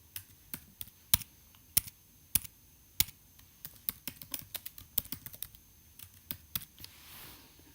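Typing on a computer keyboard while entering text into a WordPress sidebar widget: a steady run of crisp, close key clicks, irregular in rhythm, with occasional louder taps and short pauses between bursts.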